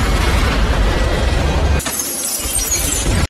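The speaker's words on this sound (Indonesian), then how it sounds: "tiba-tiba kaca malah pecah dan membuat salah satu pilot tersedot keluar" An airplane cockpit window shatters at cruising altitude in a film scene, a loud, harsh, sustained burst of breaking and rushing noise that shifts abruptly partway through.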